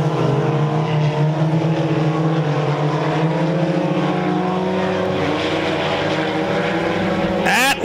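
Sport compact race cars howl around a speedway, several engines layered in a loud, sustained buzzing drone with pitches rising and falling as cars pass, no voices over it.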